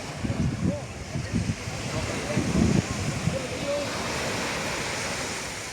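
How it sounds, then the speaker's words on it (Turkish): Atlantic surf rolls onto Santa Maria beach near Havana, Cuba, a steady broadband wash of waves under wind buffeting the microphone, with a few brief louder bursts early on. "Burası Cuba Atlas Okyanusu"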